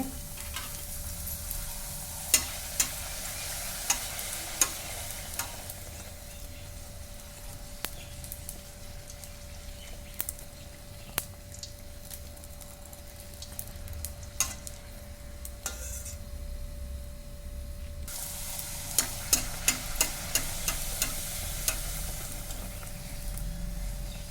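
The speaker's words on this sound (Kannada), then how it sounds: "ಎಣ್ಣೆ ಕಾದತಿ ಮತ್ತು ಈಗ ಅದರಾಗ ಪುರಿ ಹಾಕ್ತೀನಿ" Puri frying in hot oil in a kadai, a steady close sizzle with scattered sharp clicks and scrapes from stirring, continuous throughout with a brief lull before the crackling grows again.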